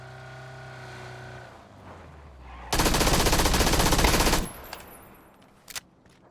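Rapid automatic gunfire from a PUBG solo match erupts loud and dense for about two seconds after a quieter engine-like hum, followed by a couple of isolated shots.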